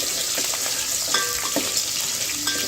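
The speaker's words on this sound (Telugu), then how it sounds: "ఒక మీడియం సైజ్ ఉల్లిపాయ వేస్తున్నాను ఒక మూడు పచ్చిమిర్చి అయితే వేసుకొని బ్రౌన్ కలర్ వచ్చే వరకు అయితే ఫ్రై చేస్తున్నానండి" Chopped onion and three green chillies frying in hot oil for chicken liver biryani, a dense continuous sizzle with a few faint stirring touches, close and loud.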